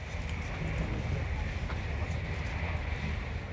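Passenger train travelling towards Bristol Parkway, a steady low rumble and rattle of wheels heard from inside the carriage, with a faint voice over the noise.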